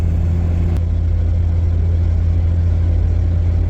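Old rescue Toyota Tercel fitted with a 4.3 engine, cruising down the road with the AC running, a loud, steady engine drone and road rumble heard from inside the car.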